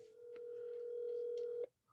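A single steady telephone call tone sounds for about a second and a half, a clean, faint, sustained pitch that cuts off abruptly.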